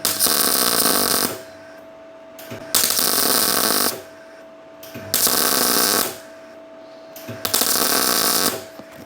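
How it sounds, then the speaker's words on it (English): Tack welding on the body panel of a Daihatsu Charade: four loud, harsh crackling bursts of about one to one and a half seconds each, separated by short pauses with a faint steady hum beneath. "This is sort of tack welding."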